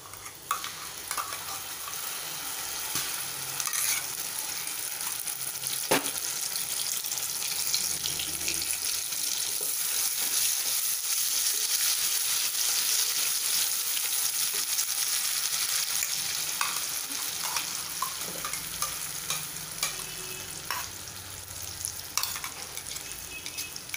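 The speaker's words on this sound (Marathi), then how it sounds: "तेल तापलं की आपल्याला वाटण छान तेल सुटेपर्यंत 2 ते 3 मिनटं परतून घ्यायचं आहे" Ground wet masala paste frying and being stirred in hot oil for a fresh cashew curry, a steady close sizzle with spoon scrapes and occasional sharp clicks against the pan throughout.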